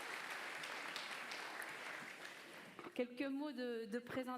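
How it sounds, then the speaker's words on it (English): Audience applause for a speaker at a talk on AI for good: scattered, moderate clapping for about three seconds, fading out as a single voice begins speaking close to the microphone. "could you give her a warm round of applause?"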